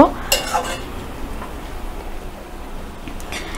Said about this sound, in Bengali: ভালো করে সব উপকরণ একসাথে আমি নাড়াচাড়া করে নেব